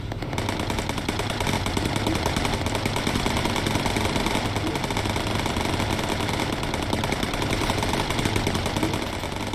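Bomber gunners firing at an enemy fighter in Bomber Crew, a continuous rapid machine-gun rattle over a droning engine hum, loud and steady throughout with no pauses.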